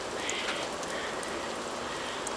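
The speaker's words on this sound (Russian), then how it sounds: "Такой дождик постоянно сегодня с утра." Steady rain falls in a vegetable garden, a soft, even hiss with scattered drops, continuous and moderately loud.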